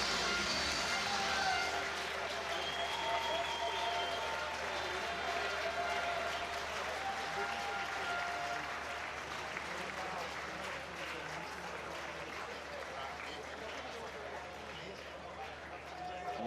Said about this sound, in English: Last few members of the crowd coming in to take their seats.